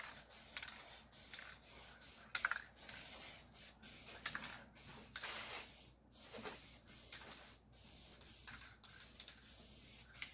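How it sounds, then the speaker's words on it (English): A spray can of cheap primer lays a light guide coat on Model A Ford fenders, heard as faint, repeated short hissing bursts with brief gaps between passes, close but quiet. "use just cheap Canadian Tire primer and use it as a guide coat"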